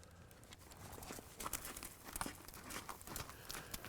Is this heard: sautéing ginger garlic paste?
no